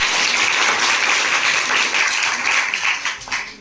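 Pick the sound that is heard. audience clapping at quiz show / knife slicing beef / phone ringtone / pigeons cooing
audience clapping at quiz show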